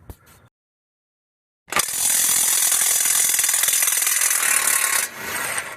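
20-volt cordless impact wrench working to break loose a bolt on a Ford F150 wheel hub, a loud, close, sustained buzzing whir lasting about three seconds before dropping in intensity, after a brief silence.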